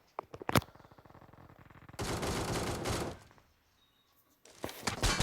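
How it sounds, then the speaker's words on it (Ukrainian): Loud sniper gunfire in PUBG, sharp cracks with rattling echoes, separated by a short quiet gap. "Снайперский постріл."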